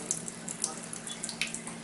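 A kitchen water tap runs at low pressure, a faint, thin trickle and hiss with light splashes, steady and quiet throughout.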